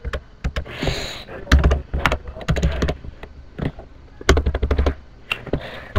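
Irregular bursts of keyboard typing while entering a password on a computer, close and fairly loud, with a few heavier clacks among the quicker key taps and no talking.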